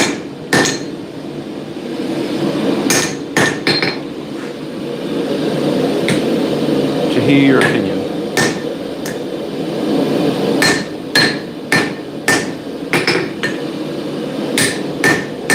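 Hand hammer strikes hot steel on an anvil while a cross pein hammer is forged at a blacksmith's, with sharp clangs that come irregularly, sometimes in quick pairs, over a steady background hum, and someone talking briefly in between.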